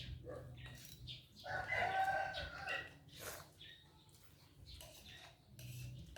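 Chickens cluck while a rooster crows in bursts across a farmyard, the calls moderately near and repeated, with a few faint human voices mixed in between them.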